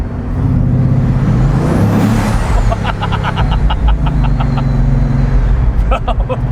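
A Bugatti Veyron Grand Sport pulls hard, its engine swelling into a loud, steady roar from inside the cabin as the turbos spool, with a rising whine and repeated short whistling bursts over the drone.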